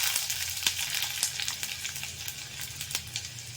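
Ginger sizzles briskly in hot oil with chana dal, urad dal and dried red chilies for upma, a steady close crackle with sharp pops scattered throughout.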